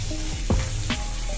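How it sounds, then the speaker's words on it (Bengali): Peanuts frying in a pan on a home stove, a steady soft sizzle running through with a couple of brief clatters or stirring sounds, close and fairly quiet, no talking. "ওপাশে আমাদের বাদাম ভাজা হচ্ছে।"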